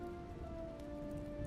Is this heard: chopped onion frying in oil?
no